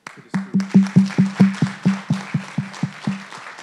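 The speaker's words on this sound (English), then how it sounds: "So I have to applaud to the students." One pair of hands claps for students' group presentations, about a dozen crisp, evenly spaced claps close to the listener, starting slightly faster and then slowing a little toward the end.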